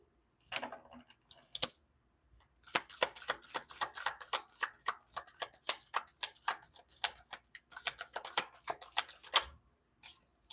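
Tarot cards are shuffled by hand in quick, rhythmic riffles, making a crisp run of papery clicks and flutters that pauses briefly before picking up again, close and fairly quiet, with no talking.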